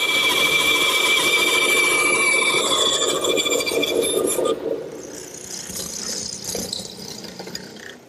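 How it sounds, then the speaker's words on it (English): A bandsaw cuts away tenon material for a wooden garden armchair leg: a loud, close whining buzz of blade through wood for several seconds, then easing into a softer running hum as the cut finishes. "I'll remove the rest of the material at the bandsaw"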